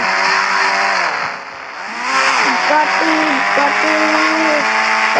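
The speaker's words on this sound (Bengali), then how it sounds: "ও তো ভূতের গাড়ি এসে গেছে ও বুকাটি হয়ে গেছে বুকাটি" A Bugatti car engine in the Indian Bike Driving 3D video game drones loudly and continuously, its pitch dipping and climbing through gear-like shifts.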